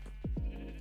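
Two short, close sheep bleats from a Minecraft sheep grazing on grass, falling in pitch, coming one right after the other over a quiet, steady background with no talking.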